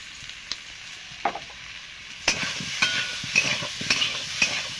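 Fried potatoes being sautéed and stirred in a pan with salt and turmeric for a duck egg curry with potato and pointed gourd, giving a steady soft sizzle broken by several sharp scraping stir strokes, close and alone.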